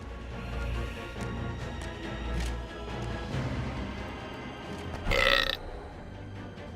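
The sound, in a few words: burp sound effect in the video game Dungeons 3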